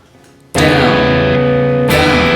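Two ringing, distorted electric guitar chords are struck about a second and a half apart, the first sustaining until the second hits.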